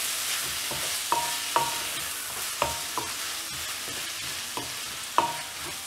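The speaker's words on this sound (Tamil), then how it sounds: "இப்போ வெங்காயம் தக்காளி பச்சை மிளகாயலாம் நல்லா வதங்கி முடிச்ச உடனே இதுல கொத்தமல்லி ஆட்" Onion, tomato and green chilli frying in a pan for a quail egg prawn curry, a steady low sizzle broken by several sharp scraping stirs of a spatula, close and without talk.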